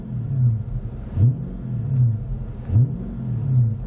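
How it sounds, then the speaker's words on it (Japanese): A 2016 Chrysler 300 SRT8 V8 is blipped in neutral, rising in three repeated revs that swell and fall back to a deep idle rumble, close and loud. "アクセル空吹かしてみます"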